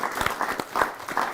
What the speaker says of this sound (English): I don't know whether we just want to put our hands together for Jamie